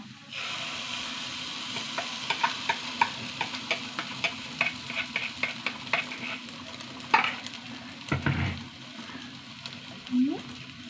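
Grated coconut and beaten egg stirred and fried together in a pan, a continuous sizzle broken by a rapid run of spatula scrapes and taps, close and clear, with a brief voice near the end.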